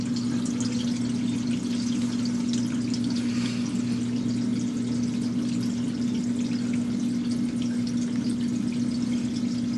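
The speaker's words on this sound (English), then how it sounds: "Dishwasher's just about done pumping out." A dishwasher pumps out its water with a constant low motor hum and a steady rush of draining, close and unbroken throughout with no voices.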